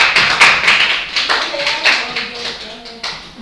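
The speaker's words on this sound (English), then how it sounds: "Give Lisa Kanya a round of applause." A class of students claps for a classmate in a Grade 9 lesson, a short round of scattered, uneven hand claps with a few sharper taps, moderately close, with a voice speaking briefly over it.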